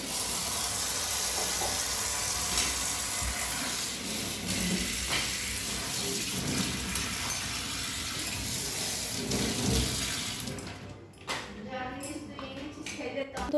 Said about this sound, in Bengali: এগুলো একটু ভালো করে ধুয়ে নিই